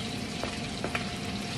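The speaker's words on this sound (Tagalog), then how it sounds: "next ay igisa lang natin yung ating bawang. Tapos ang ating sibuyas. At ang ating luya." Garlic, onion and ginger sauté in a pan with a steady, dense sizzle and a few faint stirring scrapes, close and continuous with no talk.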